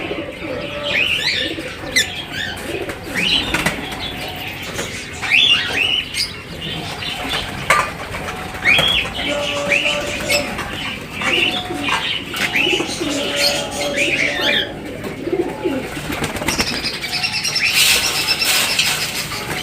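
Pigeons coo and flap their wings while feeding on grain scattered in a pan, repeated soft coos and bursts of wingbeats close by, with chirps mixed in.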